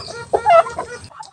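Chickens cluck close by at feeding time on a backyard farm, making a brief run of a few short, throaty clucks with a quiet pause after.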